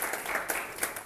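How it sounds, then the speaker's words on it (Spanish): A short burst of audience applause welcomes a new participant at a Spanish-language economics talk, with dense, lively clapping from a room full of people that swells and fades within a second. "Un aplauso para el compañero de informática."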